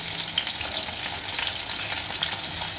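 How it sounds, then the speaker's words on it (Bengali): Sliced pointed gourd (potol) fries in oil in a pan, giving a steady, close crackling sizzle with no talk. "আমার পটল ভাজাটা হয়ে গেছে, এবার আমি নামিয়ে নেব।"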